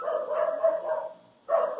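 Nearby dog barking in a short burst, a steady run of barks that pauses briefly then starts again, loud and close with no talk over it.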